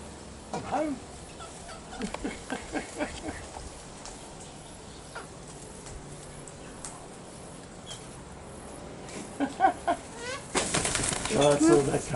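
King parrots being hand fed flutter and flap their wings in short bursts up close, mixed with soft chirps and a louder flurry near the end, while people talk quietly.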